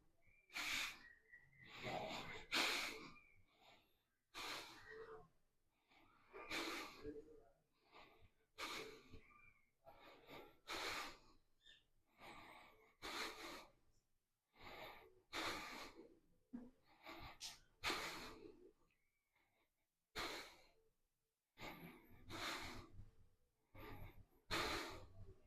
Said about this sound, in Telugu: ఈ స్థితిలో ఒక 8 లేక 10 శ్వాసలు తీసుకోండి.